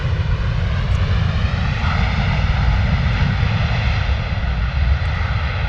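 A Buzz airline aircraft at London Stansted Airport produces a steady, loud engine roar that holds constant throughout without a break.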